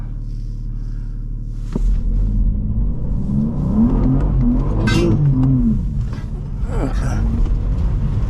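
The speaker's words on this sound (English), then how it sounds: "Let me just try to get it to do a burnout to spin the tire a little bit." A tuned 2022 BMW M4 Competition revs hard while trying to spin its tire in a burnout, a deep engine rumble rising and falling in pitch, close and loud, with a brief word spoken near the start.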